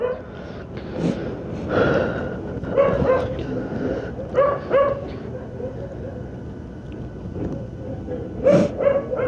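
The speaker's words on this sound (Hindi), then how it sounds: "इस जगह आए हैं तो ये कुत्ते के भौंकने की आवाज कुछ ज्यादा हो गई है" Dogs barking repeatedly at an outdoor spot, loud and fairly close, with bursts of barks and yips coming in irregular clusters over a steady noisy background.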